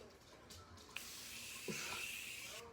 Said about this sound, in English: For my setting spray, I'm using my Morphe setting spray.